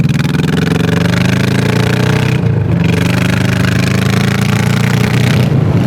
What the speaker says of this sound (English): Good roll-on power with this Shadow 11.